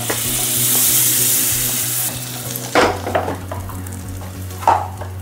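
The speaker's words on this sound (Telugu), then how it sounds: "తర్వాత ప్యాన్లో ఒక 2 స్లైసెస్ ఆఫ్ బటర్ వేసుకుందాం." Two slices of butter sizzle and fry loudly in a pan for a couple of seconds, then quieter frying continues under scattered clinks of a utensil stirring against the pan.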